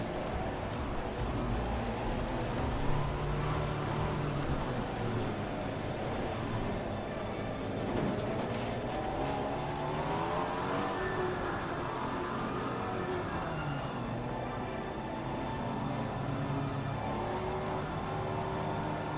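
Race car engines in Assetto Corsa Competizione roar continuously at the start of a race, several cars droning and shifting pitch together at steady loudness throughout, with no talk over them.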